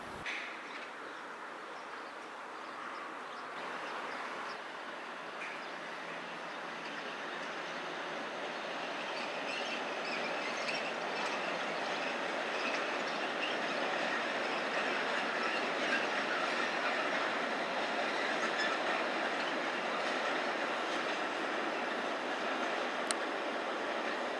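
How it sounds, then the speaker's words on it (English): A freight train rolls slowly into a station siding at Landquart, Switzerland, with steady clatter and faint wheel squeal, growing gradually louder over a sustained rumble, birds faint in the background. "pulls up to the siding at the station to allow passenger trains to pass"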